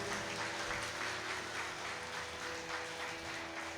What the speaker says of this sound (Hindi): एक बार मैं चाहूंगा करतब ध्वनि से आप सभी स्वागत करें, ताली बजा करके।